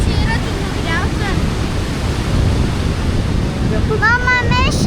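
Sea waves on the Lithuanian coast give a loud, continuous roar mixed with heavy wind buffeting the microphone, while people talk briefly near the start and again at the end.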